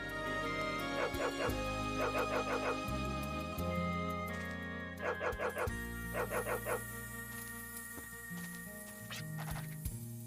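In the PS2 role-playing game Wild Arms 3, a character's bark plays as repeated clusters of quick yaps set over steady game music, several bursts in succession.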